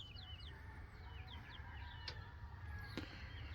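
Newly hatched baby chicks peep in repeated short, high chirps, coming in small clusters over a low, steady background rumble, fairly faint and without talk.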